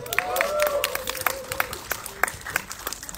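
Audience applause at a horror film premiere in an Indonesian cinema event as cast members are invited up, scattered individual claps over a crowd murmur with a voice speaking over it.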